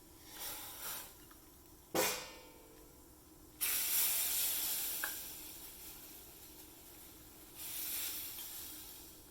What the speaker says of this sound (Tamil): கொதிக்க வச்ச தண்ணி 3 கப்பு இப்போ சேர்க்குறோம்